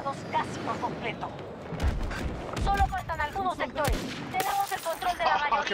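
Bursts of Battlefield 2042 gunfire crack out in rapid volleys, including sniper shots, mixed with voices shouting in Spanish over the shooting.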